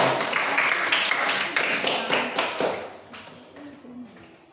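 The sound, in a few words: classroom applause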